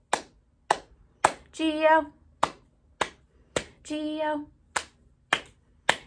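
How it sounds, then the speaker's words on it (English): Groups of three sharp, close hand claps punctuate a children's Bingo song, alternating with short sung syllables from a voice, and each clap is crisp and dry. "Now three claps."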